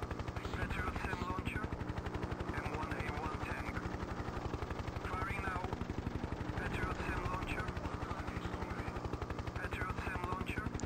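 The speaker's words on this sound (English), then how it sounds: "M1A1 tank. Firing now." M1A1 tank firing in the 1996 Hind helicopter combat video game, rapid gunfire bursts over a constant droning rotor and engine roar, dense battle noise throughout.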